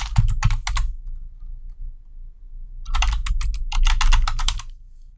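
Keystrokes on a computer keyboard entering a git add command: a short burst of close, crisp clicks, a pause of about two seconds, then a longer rapid run of taps, with no talking.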